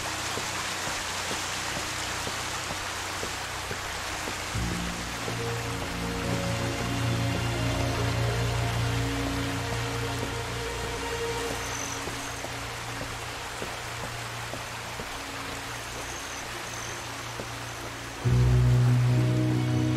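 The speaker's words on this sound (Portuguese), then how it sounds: "olha a cachoeira bonita" A steady, broad rushing roar of falling water from a waterfall in The Alien Cube, a cosmic horror exploration game, runs continuously with a low hum layered in and a louder, fuller surge near the end.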